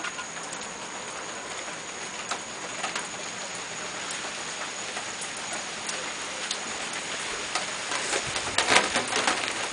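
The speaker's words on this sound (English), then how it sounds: "here's the fake rain and the fake wind" Steady rain with gusting wind from a tropical storm in the Gulf, a continuous broadband hiss lasting throughout, swelling louder near the end, with occasional bird coos faintly in the background.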